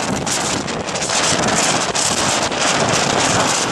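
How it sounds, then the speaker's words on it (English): Strong 40-knot storm wind gusts roar and buffet the microphone continuously, a loud broadband rush with gusty surges throughout. "Fight against 40 knot gusts."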